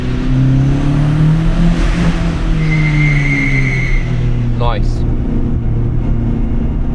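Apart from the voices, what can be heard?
turbo Renault Clio 182 driving at Nürburgring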